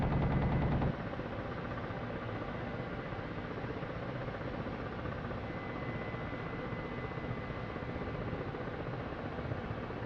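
Ka-50 attack helicopter cannon firing in the DCS World combat flight sim, a steady dense rattle layered over the constant rotor and engine drone, holding at an even loudness for about ten seconds with no talking.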